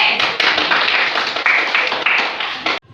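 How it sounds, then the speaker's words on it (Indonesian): A class of fourth-grade pupils claps for a group, a dense, steady burst of many hands close by that stops abruptly near the end. "Tepuk tangan untuk kelompok B."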